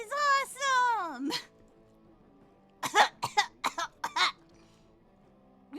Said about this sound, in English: She immediately starts coughing as she instantly overexerted herself.